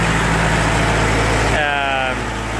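A Kubota L355 SS tractor, a traded-in L series unit needing a clutch, idles with a steady, close diesel rumble that holds constant throughout.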